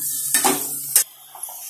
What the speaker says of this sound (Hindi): घी में अच्छे से भून लेंगे सूजी को